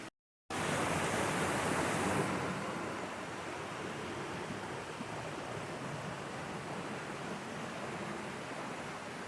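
A loud waterfall roars in a steady, dense rush that fills the whole clip, close and overwhelming, after a brief silent start, with no voices present.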